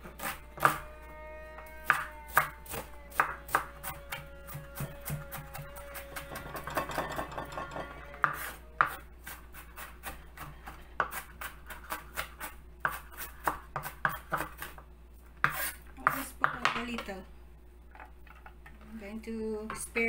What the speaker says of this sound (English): Chop this.